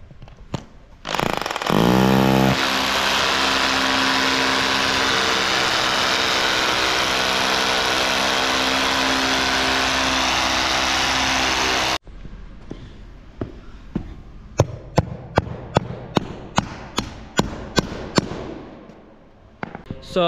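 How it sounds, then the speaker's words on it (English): A power drill fixes rubber floor mats down in calf pens. It runs loud and steady for about ten seconds, then stops, followed by a series of sharp knocks and taps. "Now going to be drilling some mats down"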